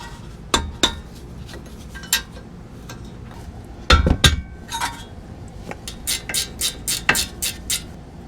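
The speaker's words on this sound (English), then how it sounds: "Bottom bolt removed." Sharp metallic clinks of a wrench working the bottom brake caliper bolt during a budget eBay brake job, scattered taps early, a heavier clatter near the middle, then a quick run of bright clicks toward the end.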